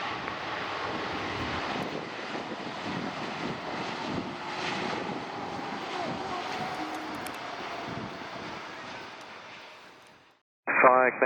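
A China Eastern airliner with a burst tire landing at Sydney Airport: a steady, broad engine and wind roar holds for about ten seconds, then fades out, followed by a brief burst of radio voice.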